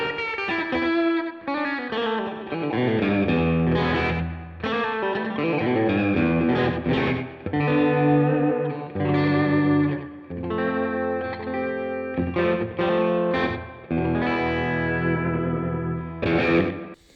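Electric guitar played through a pedalboard with slapback delay gives a quick single echo on each note, a loud, continuous run of picked phrases and chords with short breaks between them.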